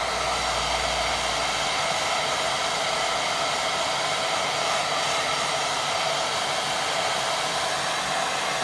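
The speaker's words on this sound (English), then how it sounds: "Right, I think I'm going to dry that now before I add any more." A hair dryer runs steadily and close at a gentle setting, drying wet watercolour paint on a 3D painting, with a constant airy whoosh and motor hum and no voices.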